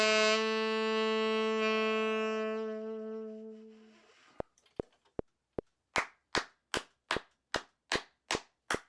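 Sharp hand claps in a music backing track follow a sustained tuning note and a few clicks, with eight evenly spaced, crisp claps spread over two bars.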